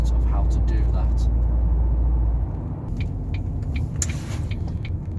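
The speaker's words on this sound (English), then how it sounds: "The car is a little bit on the noisier side of things" Steady low road rumble inside the cabin of a Ford Focus MK1 on the move, made louder by missing carpet liners. The drone is heavy at first, then eases to a softer hum with light rattles.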